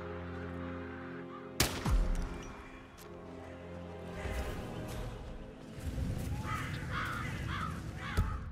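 Crows caw repeatedly in the Hitman video game, several harsh calls rising over a busy game soundscape with a sharp bang near the start and another near the end.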